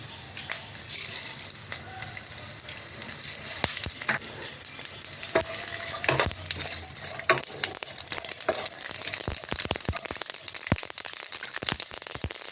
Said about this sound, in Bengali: বাদামটা ভাজা ভাজা হয়ে আসছে, আমি এর মধ্যে দেবো একটু গোটা সর্ষে।